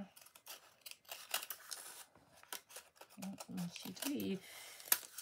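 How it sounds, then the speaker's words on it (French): Scissors cutting paper to shape a small cone Christmas tree, several close crisp snips in quick irregular bursts, with a voice talking softly partway through. "je vais découper pour que ça fasse à peu près droit en bas"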